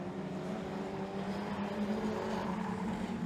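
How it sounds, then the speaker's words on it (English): Dirt track race cars, National 4s, roaring around a clay oval at Kingaroy, Queensland, with a steady, loud engine drone holding throughout, no talk. "We're back at our race leader, who is about to put a lap on the 41 car of Josh Betts."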